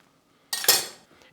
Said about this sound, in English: so I'm going to cut it in half with a knife.